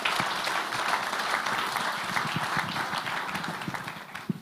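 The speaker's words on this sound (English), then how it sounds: "Ladies and gentlemen, let's give a round of applause." A crowd applauds at the Cricket Namibia annual awards ceremony, a loud, dense burst of many hands clapping, steady and close, tapering slightly toward the end, with a few louder individual claps.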